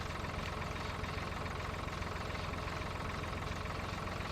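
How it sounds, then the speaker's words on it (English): A John Deere tractor idling in Farming Simulator 2013, its engine a steady low rumble with an even chugging pulse that stays constant throughout, with no voices. "I have a John Deere tractor."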